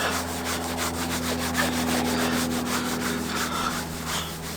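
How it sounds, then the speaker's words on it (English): A rag rubbing toothpaste into a car headlight on a Toyota Alphard, a brisk back-and-forth scrubbing with a fast, even rhythm, close and fairly loud throughout. "I've got this rag that we're just going to try and rub in"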